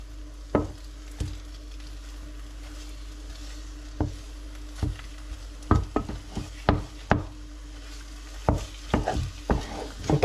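Homemade béchamel sauce stirred in a pan for croque monsieur: repeated sharp scrapes and knocks of a utensil against the pan at an irregular rhythm, over a low steady hum and faint sizzle, with no talking.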